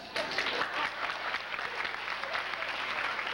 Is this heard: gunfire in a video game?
no